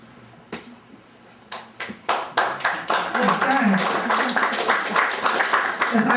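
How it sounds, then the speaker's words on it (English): Audience applause at a poetry reading in a bookstore in Charleston, Illinois: a few scattered early claps, then a sustained burst of hand clapping from a small crowd that continues steadily to the end. "I'm glad you clap when I read something that's nice."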